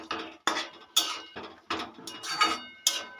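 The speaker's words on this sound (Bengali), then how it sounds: "এবার আলু, বেগুন ও বড়িটা শাকের সঙ্গে ভালো করে মিশিয়ে নেব।" A utensil stirs potato, eggplant and chopped bori into cooking bathua greens in a metal pan, giving a series of sharp, close scraping clatters in an uneven rhythm, with no talking.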